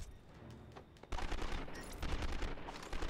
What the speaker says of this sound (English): Oh, I just love this game shooting.